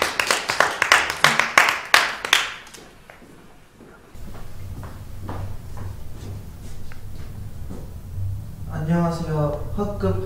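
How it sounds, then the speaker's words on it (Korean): Classmates in a school classroom clap briefly and fast for class president candidates, about a dozen quick claps that stop after a couple of seconds, followed by rustling, shuffling and voices talking. "박수로 맞이해주세요."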